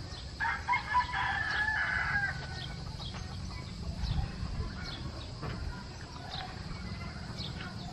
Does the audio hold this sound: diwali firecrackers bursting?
no